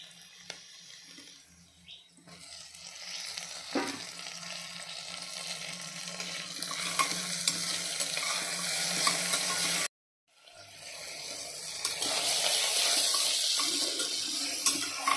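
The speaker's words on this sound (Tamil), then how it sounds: "வெங்காயம் தக்காளி வதங்கிடுச்சு" Onion and tomato sautéing in a pan, with a steady broadband sizzle and faint stirring scrapes throughout, a brief silent gap partway, then the frying resumes louder.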